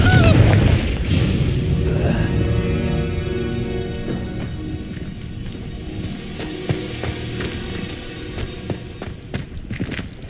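Confringo blasting spell in Hogwarts Legacy: one heavy, booming blast at the very start that fades into a lingering, crackling tail under soft, sustained musical tones.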